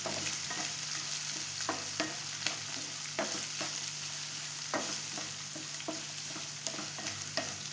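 Onions sauté in hot oil with curry leaves, red and green chillies and garlic for tomato rice, a steady close sizzle broken by regular scrapes and clicks of a spoon as the pan is stirred, with no talk.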